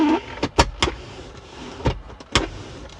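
A Mazda 2 armrest lid, an aftermarket Omextra Design unit, opened several times, giving a series of short, sharp clicks and soft mechanical knocks close up, with brief quiet gaps between them and no talking.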